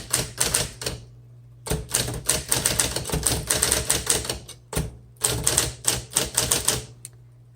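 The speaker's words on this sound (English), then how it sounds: "let's go ahead and type on this" A 1958 Smith Corona electric typewriter clacks in fast, dense bursts of keystrokes under a steady motor hum, with short pauses between runs, loud and close.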